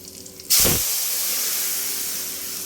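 Water poured into a hot cooking pot during a morning kitchen routine, bursting into a loud sudden hiss and sizzle that then settles into a steady steaming hiss.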